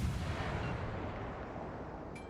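Warship guns fire in World of Warships: Legends, giving a deep, booming report that swells at the start and then rumbles on as a long, heavy tail, with no one talking.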